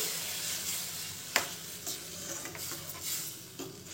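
A spoon stirs ground masala paste into simmering tamarind water for pineapple curry, scraping and knocking against the pan in several quick strokes over a continuous low sizzle.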